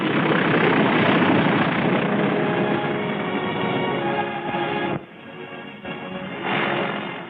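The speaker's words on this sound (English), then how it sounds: "The first plane landed just 24 hours after the Seabees had started to work." Aircraft engine drone from a plane landing on a newly built airstrip in 1944, loud and steady, dipping abruptly partway through before swelling again, with no voices.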